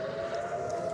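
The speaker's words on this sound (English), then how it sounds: "here's the siren" A steady air-raid siren tone in Israel holds level throughout, droning at a constant pitch over a rumbling background, with no talking.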